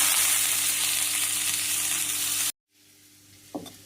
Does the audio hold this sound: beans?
yes